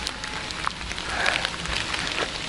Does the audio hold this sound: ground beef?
no